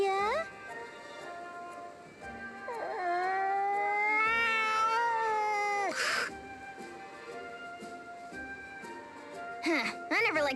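A cat in the video game Bravely Second: End Layer gives drawn-out, wavering meows and a caterwauling cry, fairly loud and close, with game music or effects beneath and a brief sharp burst midway.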